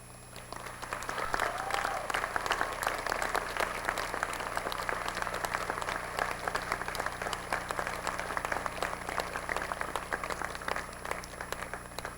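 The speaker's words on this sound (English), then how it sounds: "please lead us in applause as we welcome the newest members to the university alumni community" A commencement crowd at the University at Albany's 2004 ceremony breaks into sustained, steady applause, many hands clapping at once in a dense, even roar that holds for the whole stretch without pause.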